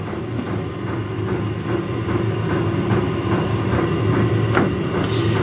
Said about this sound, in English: the diesel heater going, trying to keep me warm in here